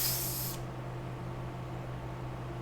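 Crop sprayer spraying in Farming Simulator 22: a loud airy hiss that cuts off sharply after about half a second, leaving a steady low machine drone.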